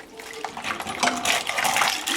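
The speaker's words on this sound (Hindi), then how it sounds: "और इसका बिल्कुल थिन सा इसको बना लें अब, पानी ऐड करके" Water poured into thin batter for curry pakoras while it is whisked in a bowl, a steady splashy trickle and sloshing with small clinks, close and fairly loud, with no voices.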